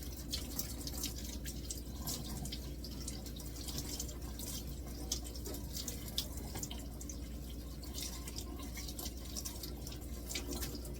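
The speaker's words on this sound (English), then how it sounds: "So let me rinse these out. Rinse this parsley and the chives." Tap water runs steadily into a kitchen sink while parsley and chives are rinsed, a continuous close splashing hiss with small irregular drips and spatters and no talking.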